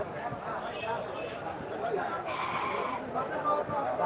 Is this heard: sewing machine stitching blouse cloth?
no